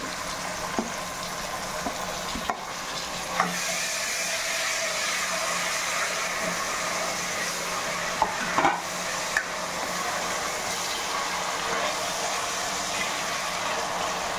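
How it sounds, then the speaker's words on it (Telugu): Tomato goes into a hot pan for a Telugu mixed vegetable curry with gaur beans and egg. A steady, bright sizzle carries on throughout, broken by a few light scrapes and clicks of stirring and no voices. "ఇప్పుడు టమాటా వేస్తున్నానండి"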